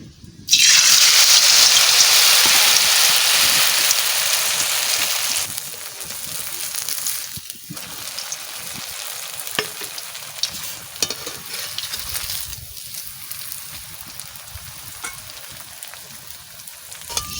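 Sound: frying bitter gourd leaf chops in hot oil

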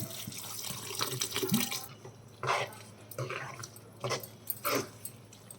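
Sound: water poured into cooking pan

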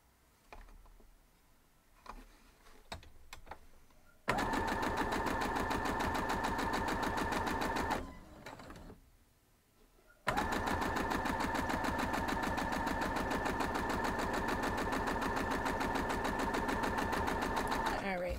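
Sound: sewing machine sewing quilt block pieces

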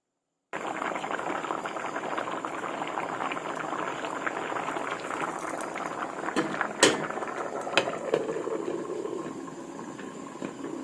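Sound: bamboo shoot curry with catfish boiling in a covered pot

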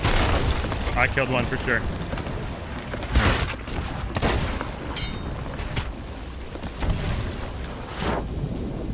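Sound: ship cannons firing in the video game Sea of Thieves

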